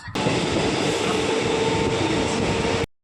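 A train runs steadily on its rails on a trip toward Naihati in West Bengal, making a loud, continuous rumble and rattle that stays even from start to finish with no voices.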